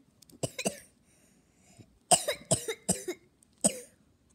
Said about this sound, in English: Yes, I coughed.